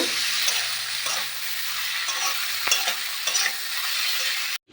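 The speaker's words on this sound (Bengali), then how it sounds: "পেঁয়াজগুলো একটু লাল লাল করে ভেজে নেব" Chopped onions sizzling in mustard oil in a wok, a steady close crackle with occasional stirring scrapes, continuous and fairly loud until it cuts off abruptly at the end.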